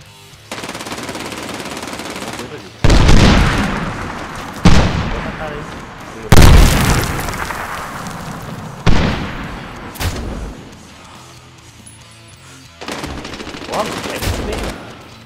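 Bursts of automatic gunfire from the shooter game Medal of Honor Warfighter, several loud volleys of rapid shots with sharp onsets, separated by quieter stretches of background battle noise.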